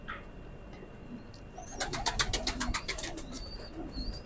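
A teddy pigeon coos softly in a series of low, close throaty pulses while being held in the hand, with faint bird chirps in the background.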